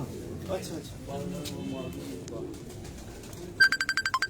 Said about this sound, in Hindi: ये जी सिंधी कबूतरों का शौक करवा रहे हैं इस वक्त हम आपको।